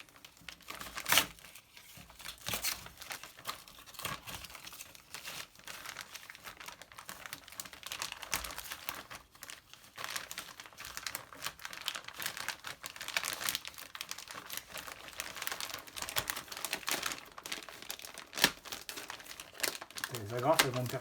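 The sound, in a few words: unwrapping a Polini exhaust from its plastic packaging bag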